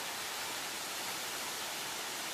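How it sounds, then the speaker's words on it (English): Steady broadband rush of a mountain waterfall pouring down, heard close and continuous with no voices over it. "There's a beautiful waterfall here."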